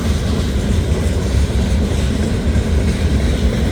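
An Ohio Central Railroad stone train rolls past on former Pennsylvania Railroad and B&O track near Newark Yard, Ohio, a loud, close, continuous low rumble of freight cars with no voices.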